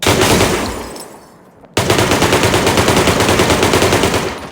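Loud, rapid automatic gunfire in a video game rattles continuously, drops off briefly, then resumes in a sustained burst of rhythmic shots.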